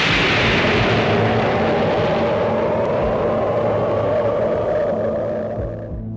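An atomic bomb detonation, a huge sustained roar and rumble that stays loud for several seconds, then slowly begins to fade near the end, with no voices.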